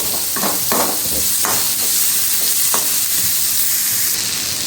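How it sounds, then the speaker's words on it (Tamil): Chopped onions sautéing in a pan give a loud, steady frying hiss and sizzle up close, with a few soft stirring scrapes underneath and no speech. "வெங்காயம் நல்லா வதங்கி வரட்டும்"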